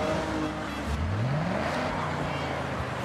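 A 1977 Chevrolet Camaro with a swapped-in bigger, untuned engine revs in Forza Horizon, a loud steady engine drone rising in pitch around the middle and holding high, with talk faintly mixed in.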